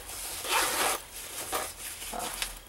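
Zipper closing on a Melissa backpack, several quick rasping pulls in short bursts, close and clear with no talk.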